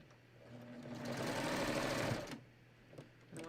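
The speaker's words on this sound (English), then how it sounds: "Alright, so I'm gonna start serging this." Serger overlock machine stitching a raglan sleeve top, a fast buzzing run that starts softly, builds and holds for about two seconds, then stops, followed by faint handling sounds.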